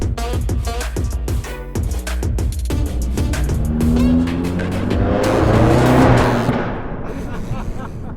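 A performance car accelerates hard, its engine revving loudly through rising pulses before the throttle lifts and the sound fades into a lower settling hum, heard from inside close by.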